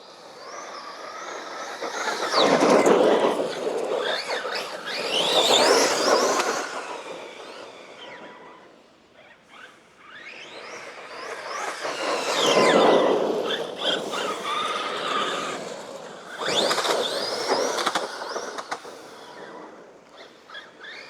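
Four-cell RedCat Valkyrie MT electric RC monster truck with a Hobbywing system climbing a hill, its motor whining up in several bursts that swell and fade as it runs away and comes back, with quiet gaps between.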